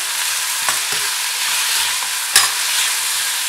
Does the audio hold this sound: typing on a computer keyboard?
no